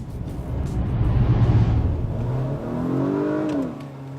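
An Acura with Super Handling All-Wheel Drive accelerates hard, its engine note swelling loudly and then climbing in pitch as the revs rise, heard up close without voices.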